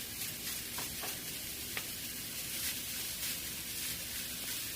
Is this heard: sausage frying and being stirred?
yes